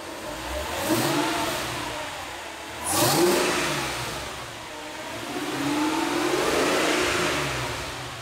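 A Whipple-supercharged Mercedes E55 wagon engine revs up repeatedly in three broad surges, climbing and falling in pitch, with steady idle rumble between bursts and no talking.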